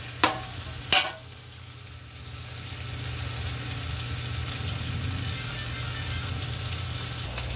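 Corned beef frying in a pan, a steady soft sizzle that fills the space after two sharp clinks of a utensil at the start, with no one speaking.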